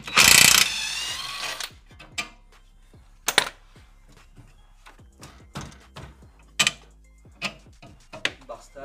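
A ratchet wrench loosens bolts on a drift car, its quick clicking bursts coming in short separate runs with quiet gaps between them, close up, with a voice heard in the clip.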